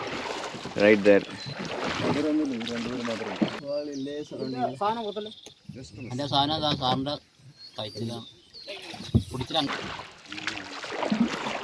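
A boat moves through water on a river or lake in Parambikulam, India, against a steady wash of wind and engine noise. People talk over it for most of the clip.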